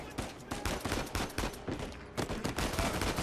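Dense, nonstop gunfire from the action game Uncharted 4, with overlapping loud shots and impacts filling the whole moment in a heavy, continuous barrage.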